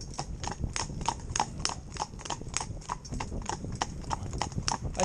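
Hooves of a big, powerful 14-year-old horse clip-clop in a steady, even rhythm while it pulls a cart, each strike crisp and fairly close over a low rumble of wheels.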